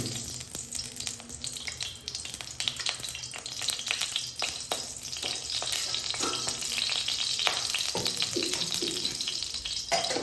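Oil heating in a hot pan on the stove, giving a steady, close crackling sizzle with scattered clinks and scraping throughout, and no voices.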